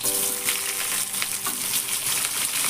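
Hot oil sizzling steadily in a pan with chopped onions going in, a dense continuous frying hiss with faint extractor-fan hum beneath, close and fairly loud throughout.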